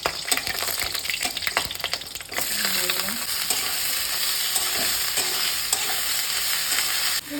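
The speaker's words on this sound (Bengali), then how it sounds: "এবার এটা ভাজা হয়ে যাবে, একটু ভাজবো" Potatoes for aloo chorchori fry in a pan and are stirred: about two seconds of busy scraping and clatter, then a steady, close, even sizzle.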